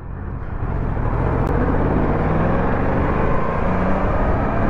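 A Yamaha R1 motorcycle on its stock exhaust pulls away, its engine rising into a loud, steady roar that fills the whole stretch without talk.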